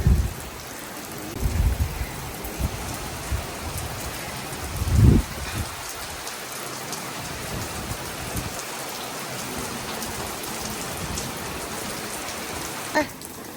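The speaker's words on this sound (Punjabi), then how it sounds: "ਵੇਖੋ ਨਾ ਆਂਡਿਆਂ ਵਾਲਾ ਮੀਂਹ ਆ" Heavy rain mixed with hail pounds down during a thunderstorm, a steady dense hiss of drops on surfaces with a few louder thuds and low rumbles, no talking.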